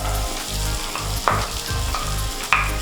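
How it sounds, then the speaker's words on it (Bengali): Chopped carrots frying in a pan with ginger and garlic make a loud, continuous sizzle, with a rhythmic pulsing undertone and two brief sharp scrapes from stirring. "পেঁয়াজ আর গাজরটা বেশ হালকা ভাজা হয়ে গেছে"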